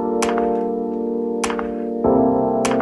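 Fortnite slow clap sample landing on beats 2 and 4 over sustained synth chords, three crisp claps spaced evenly above a steady held harmony that shifts chord partway through.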